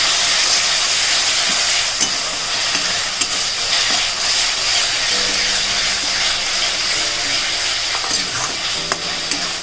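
Spice paste for kasundi chicken fries in a pan with a loud, steady sizzle and hiss, close up, broken by occasional scraping stirs and small pops.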